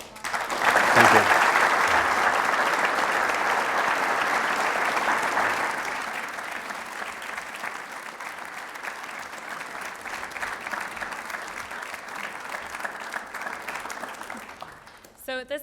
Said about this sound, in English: Do you want to give one more round of applause?